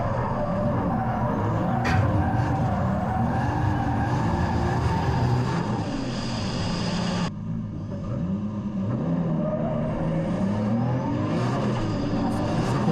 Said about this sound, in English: A much faster initiation from Rob Spray, smoking the tyres on the way in